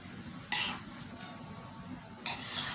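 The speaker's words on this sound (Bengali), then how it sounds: "তো এটাকে বলে কষানো, গ্রাম্য ভাষায় বলে কষানো।" Meat is stirred and sautéed (koshano) in a wok over a faint, steady sizzle, with two sharp metallic scrapes of a utensil against the pan about two seconds apart.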